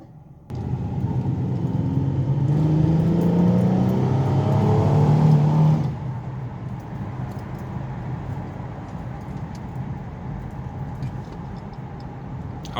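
A Mustang engine, being cleaned of fuel injectors, revs up hard to its rev limiter around 3,500 rpm, holding a loud strained roar for a few seconds before dropping back to a steady idle rumble.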